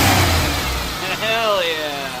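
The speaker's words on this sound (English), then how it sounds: "I want to hear that supercharger. There, I got it cracked open so you can hear." Supercharged 2004 Chevrolet Impala SS with its intake box cracked open, the engine revving loud and close with a rising supercharger whine over a deep rumble.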